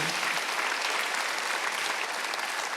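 A church congregation at a Sunday worship service breaks into sustained, even applause, a dense crowd of clapping hands filling the room without pause.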